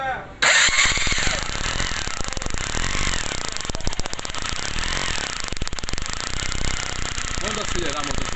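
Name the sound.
Honda CG Titan 125 motorcycle engine starting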